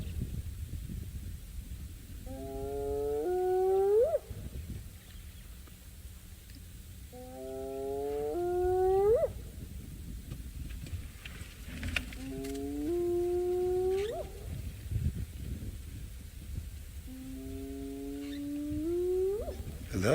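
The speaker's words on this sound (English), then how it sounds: "I was just quiet so that you can hear and enjoy that hyena call" Spotted hyenas give rising whooping calls outdoors at sunrise in the wild, four widely spaced whoop series over a low ambient rumble, moderately distant, with no talking.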